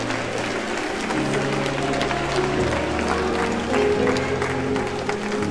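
A church congregation applauds in praise of the Lord, with steady, dense clapping from a crowd that carries on throughout over sustained worship music, close and full.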